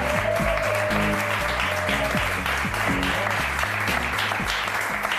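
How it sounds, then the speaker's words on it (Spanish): Game show audience gives a strong welcoming round of applause for three contestants, loud sustained clapping blended with a pounding music bed throughout. "Vamos a recibir con un fortísimo aplauso a tres idiotas de tomo y lomo"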